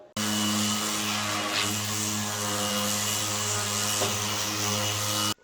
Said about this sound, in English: I just need now to go over with the hand sander and the detail sander